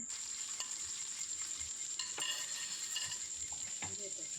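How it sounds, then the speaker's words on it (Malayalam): Mustard seeds and garlic sizzle in oil for a mango pickle, giving a soft, steady fry with a high whine above it and occasional light scrapes and taps of a spoon against the pan. "പിന്നെ അതിലേക്ക് നമുക്ക് കുറച്ച് വെളുത്തുള്ളി ഇട്ട് കൊടുക്കാം"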